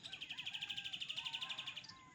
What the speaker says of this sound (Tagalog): ang ganda ng ano, huni ng mga ibon